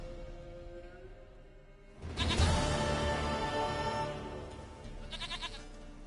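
A goat in The Witcher 3 video game bleats loudly and repeatedly with a rough, wavering cry that starts around two seconds in and keeps going, with a shorter burst near the end.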